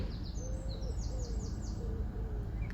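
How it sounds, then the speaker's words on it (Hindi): Repeated bird calls, bright chirps and soft hooting whistles, fairly faint over a low steady rumble of traffic. "कितनी प्यारी खूबसूरत चिड़िया की आवाज़ आ रही है।"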